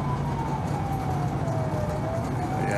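Ambulance siren heard from inside the vehicle during a bicycle-accident call, a steady loud wail with a slowly sliding tone over constant engine and road rumble.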